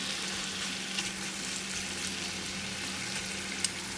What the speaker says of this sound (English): once this pan is hot, I'm gonna bring the vegetables in.